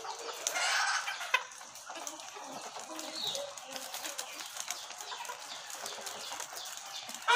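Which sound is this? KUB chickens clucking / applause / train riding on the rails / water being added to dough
KUB chickens clucking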